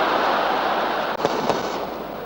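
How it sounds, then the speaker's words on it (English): Firecrackers go off in the crowd at a 1959 Brazil versus England friendly football match, a couple of sharp pops rising over a loud, steady wash of stadium crowd noise. "the firecrackers are starting to celebrate an easy victory by Brazil"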